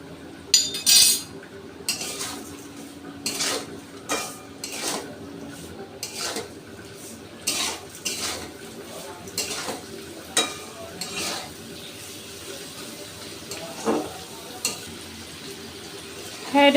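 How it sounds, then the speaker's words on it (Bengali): Vegetables for fried rice stir-fried in a pan, a steady sizzle broken by repeated metallic scrapes and clinks of a spatula at an uneven rhythm, close and clear with no talk. "ফ্রাইড রাইসের সব সবজিগুলো আমি খুব ভালো করে ভেজে নিয়েছি।"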